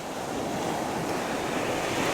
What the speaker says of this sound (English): I'm taking several shots as the waves are coming in